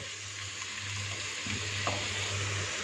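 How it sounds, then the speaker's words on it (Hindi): Around 250 grams of minced meat (keema) frying in a pan over medium-low heat, releasing water as it cooks: a steady, soft sizzle with a low hum underneath and a brief faint clink near the end. "कीमा ये तकरीबन 250 ग्राम है। इसको भून लेंगे।"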